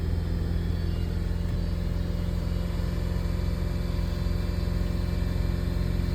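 A GMC Terrain's 3.6L engine is held at raised revs around 2,500 rpm, producing a steady, loud, continuous drone with even rumble and no variation, heard up close without talk.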